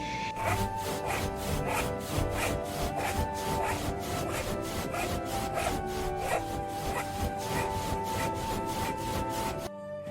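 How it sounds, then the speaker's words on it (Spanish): Steady rhythmic rasping strokes like a handsaw cutting wood, repeating quickly and evenly, with tonal music-like layers running underneath throughout. "los ruidos de serrucho que sonaban más o menos así."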